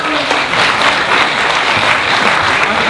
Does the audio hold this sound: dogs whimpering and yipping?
no